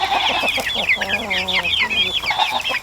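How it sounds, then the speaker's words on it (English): Several chickens cluck and chirp continuously at close range, soft overlapping calls with busy high-pitched peeping from young chicks throughout. "These chicks are getting more and more friendly by the week"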